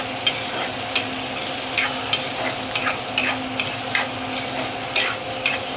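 Onion and tomato fry in a pan under a constant close sizzle, with a spoon stirring and scraping in regular strokes about every half second to second; no voices.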